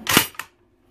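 The bolt of an SK-15/17 rifle drops closed with a sharp metallic snap, followed quickly by a smaller second click and then silence, heard up close.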